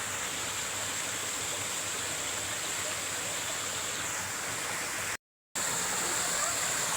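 Small waterfall in Barangay Dalama, Lanao del Norte, a steady, loud rushing roar of falling water heard up close, continuous apart from a brief cut near the end.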